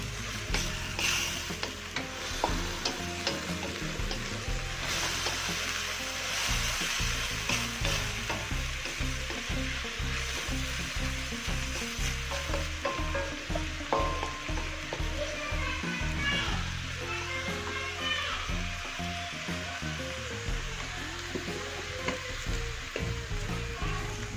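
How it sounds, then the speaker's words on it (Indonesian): Cabbage sizzles and crackles steadily in a hot pan while a utensil scrapes and stirs, with children's voices faint in the background. "Ini kita aduk hingga merata."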